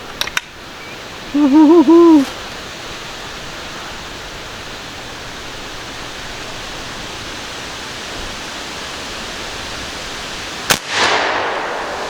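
A Bush Buck 452 big-bore airgun fires one sharp, loud report at a target outdoors near the end, followed by a short fading echo over a steady quiet background with a brief hooting call earlier.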